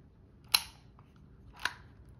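A label machine's built-in cutter snips its label tape twice, two crisp, brief clicks about a second apart in an otherwise quiet room.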